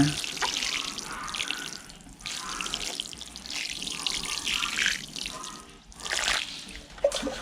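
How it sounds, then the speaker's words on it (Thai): Water pours onto soil in seedling trays before planting, making a close, steady splashing trickle that swells and eases in several pulses, with no talk. "รดน้ำก่อนก็ดีค่ะเวลาปลูกนะ จะง่ายกว่า ดินจะแน่นกว่า"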